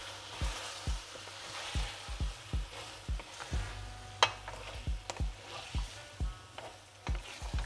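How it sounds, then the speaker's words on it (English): Beef rib caldereta with broth, ketchup and oyster sauce is stirred in a pot with regular low thumping strokes, about two per second. A soft simmer sits under them and one sharper clack stands out midway. "Let's give it a stir."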